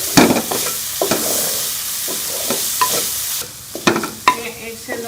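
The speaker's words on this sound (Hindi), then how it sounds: "और हम 1 से 2 मिनट के लिए इसे भून लेंगे ताकि हमारे प्याज जो है वो सॉफ्ट हो जाए" Onions and tomatoes fry in a pan as the mixture is stirred, giving a steady close sizzle broken by scraping strokes of the spoon and a few louder clacks against the pan near the end.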